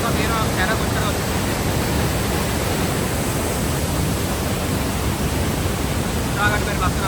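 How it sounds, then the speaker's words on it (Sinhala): Heavy water rushes through Martvili Canyon in Georgia on a high-flow day, a loud, dense and unbroken roar that fills the whole stretch without any pause. "අද වතුර පාර ගොඩක් වැඩි දවසක්"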